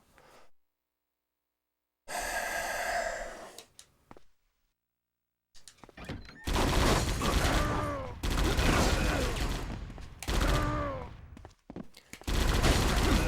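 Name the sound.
gunfire in the video game Die Hard: Vendetta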